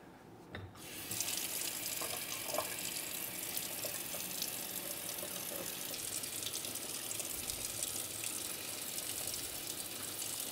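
A faucet switches on and runs steadily for a handwashing, giving a loud, constant close rush of water into the sink with no voices over it.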